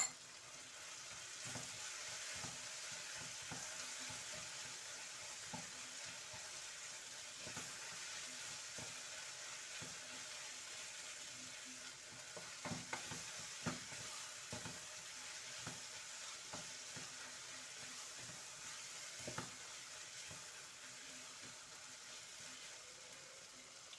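Tomatoes, peppers and a spoonful of tomato paste fry steadily in a pan, giving a soft continuous sizzle with occasional stirring clicks and scrapes, and no voices.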